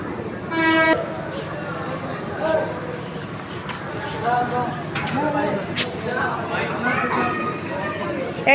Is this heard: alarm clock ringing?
no